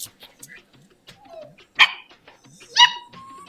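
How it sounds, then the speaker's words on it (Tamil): A puppy lets out sharp, high yips and barks, two louder ones standing out among quicker whimpers and scuffling, close by, while a person talks over it. "குட்டி நாய் குட்டி நாய் குட்டி நாய் எதுவும் பண்ணக்கூடாது"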